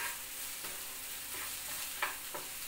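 Chopped onions for onion chutney sizzle steadily in a pan, a continuous soft frying hiss broken by a few light scraping stirs, with no voices.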